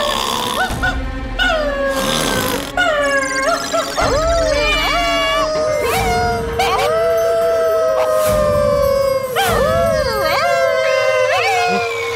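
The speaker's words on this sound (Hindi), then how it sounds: "घर में कुत्ता भी है।" A dog howls inside a house in a comedy scene, several rising and falling wavering howls repeating over twelve seconds at fairly close, steady loudness.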